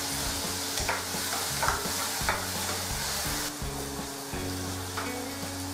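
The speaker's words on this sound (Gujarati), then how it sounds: "હવે તેમાં સમારેલ ટામેટા ઉમેરીશું જ્યાં સુધી તેલ ઉપર તરતું દેખાય અને ટમેટા પ્રોપર કૂક થઈ જાય ત્યાં સુધી તેને હલાવીશું" Chopped tomatoes frying in oil for Kathiyawadi baingan bharta, stirred with steady scraping strokes over a continuous close sizzle, with no voices.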